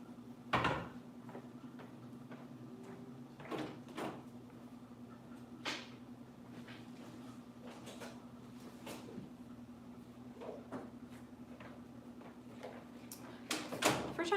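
Kitchen cupboard doors and drawers opening and closing during meal prep, with scattered wooden knocks and clacks over a quiet, steady background hum. A louder cluster of bangs comes at the end.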